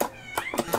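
A cat meows several times in close succession, short bright cries that rise and fall, loud and near with no other sound around them.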